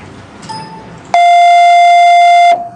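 A lower electronic sine tone, one half of a phone keypad button sound, holds loud and unwavering for roughly a second and a half, then cuts off, alone apart from faint background noise.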